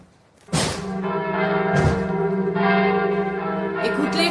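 Church bells peal loudly and continuously, several overlapping strikes ringing out with long sustained resonance, close and full.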